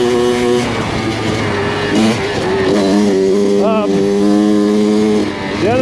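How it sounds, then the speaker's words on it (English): Kawasaki KX100 dirt bike engine revving up in the hills, pitch climbing and dropping through repeated quick short shifts, loud and close throughout. "You'll hear me short shifting it because now this bike, it changes direction really quick."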